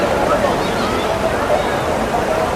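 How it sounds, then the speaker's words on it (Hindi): Loud, continuous rush of the fast-flowing Ganges at Haridwar with churning waves, a dense roar filling the whole stretch without letup. "माँ गंगा में आज समुद्र की तरह लहरें उफान भरी उठ रही है"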